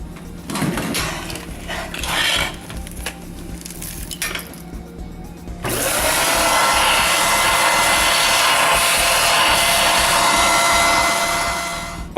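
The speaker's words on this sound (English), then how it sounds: "So let's go ahead and vacuum that out to start with." A vacuum cleaner pulls dust from the back of a fridge, near the motor and fan. A few light clinks and knocks come first, then the machine starts up into a loud, steady roar that holds to the end.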